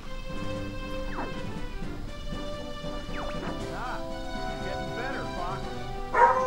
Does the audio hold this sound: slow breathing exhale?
no